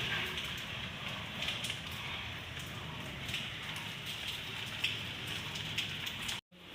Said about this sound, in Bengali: বাইরে ঝিরঝির করে বৃষ্টি পড়ছে